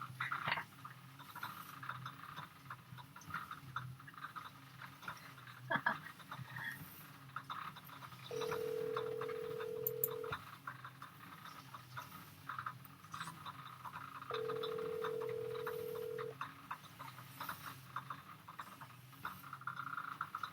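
A telephone call rings out with two long, steady ringback tones spaced a few seconds apart, sounding over a low background murmur with no talking.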